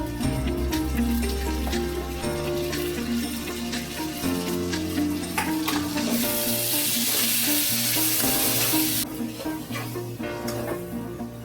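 Curry leaves and tomato hit hot oil while frying for aloo kurma, a loud, close, continuous sizzle with a burst of harsher hissing spitting midway, then easing back to steady frying.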